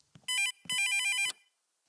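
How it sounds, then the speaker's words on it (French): Electronic telephone ringtone with two bursts of bright, harmonic chirping tones separated by a short pause, clear and close, alone with faint low noises before and after, in a children's cartoon setting. "Il faut que je réponde au téléphone."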